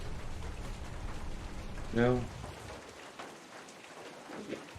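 Rain falls in a faint, steady patter and hiss, briefly interrupted by a single short spoken word.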